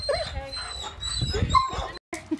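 A dog whimpers and whines in high, thin cries broken by a few short barks, close by, while someone talks over it indoors.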